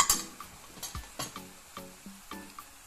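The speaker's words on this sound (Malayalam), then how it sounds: "ഇതിലേക്ക് ഞാൻ ജിഞ്ചർ ഗാർലിക് പേസ്റ്റ് ഇടുന്നുണ്ട്. അതും നന്നായി അതിൻ്റെ പച്ചച്ചുവ മാറുന്നത് വരെ ഇളക്കിക്കൊണ്ടിരിക്കുക." Ginger garlic paste frying in a pan while being cooked down for a squid roast, with a steady sizzle broken by rhythmic scraping stir strokes roughly every half second, close and moderately loud, no talking.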